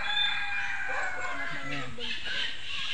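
Chickens of several kinds, including black ones, at a wildlife rehabilitation center in Laguna, with a brief crow or cluck rising amid steady outdoor background noise. A person talks nearby throughout.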